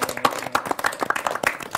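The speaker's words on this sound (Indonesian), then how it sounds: "Tepuk tangan lagi dong buat Bang Sani." Scattered audience clapping at an Islamic talk session on gratitude, a short burst of uneven, fairly close handclaps.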